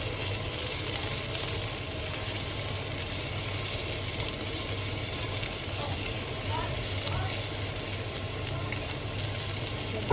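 Shrimp and vegetables stir-frying in a pan with cooking oil and garlic, a steady close sizzle and crackle running throughout with faint scraping of stirring, while a voice talks quietly in the background.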